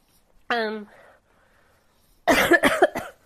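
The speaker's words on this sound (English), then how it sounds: "I apologize for the a little bit of extra coughing" One short harsh cough, a brief pause, then a burst of several rapid coughs close by.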